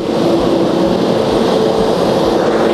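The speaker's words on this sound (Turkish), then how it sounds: "Şu an Air Serbia'nın bir Embraer'ı geçiyor." An Air Serbia Embraer jet airliner roars past at Istanbul Airport, a loud sustained broadband rumble with a steady engine whine, close and unbroken throughout.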